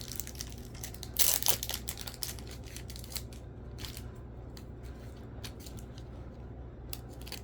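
A 2007 Upper Deck baseball card slides into a plastic sleeve, a brief crinkly swish up close, followed by quiet, soft handling noises.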